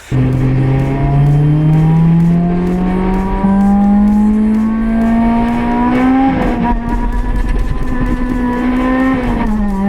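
A Honda Integra Type R engine revs and holds a loud, droning note through a 2.5-inch exhaust that climbs slowly in pitch, close up and continuous for the whole stretch.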